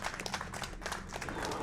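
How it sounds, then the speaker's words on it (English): Steady applause from a live audience at a speedrunning event, continuous clapping throughout with faint voices mixed in. "You can clap for that."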